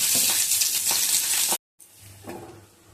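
Chili, ginger and garlic sautéing in a little sesame oil give a loud, steady close sizzle with stirring, cut by a brief silence before a quieter frying hiss resumes.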